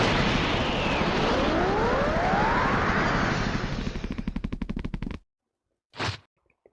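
A Kamehameha-style energy blast fired in the Rec Room DBZstrikers video game: a long roaring, crackling rush that breaks into rapid pulsing bursts and cuts off, followed by one short separate burst.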